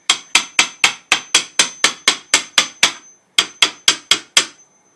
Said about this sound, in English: now he's removing the tack strips,